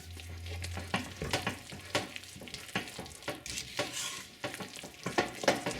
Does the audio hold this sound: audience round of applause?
no